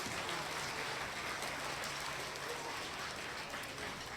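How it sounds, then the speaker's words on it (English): Schoolchildren clap for themselves at the close of an elementary school awards assembly, a steady, dense wash of applause from a large group that holds at an even level, somewhat soft and distant, for the whole stretch. "So give yourselves a round of applause."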